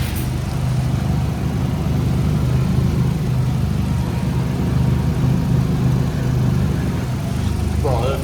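A VW Fox GTI hatchback engine runs at a steady idle, a continuous low rumble close by with no revving, and speech is faint or absent.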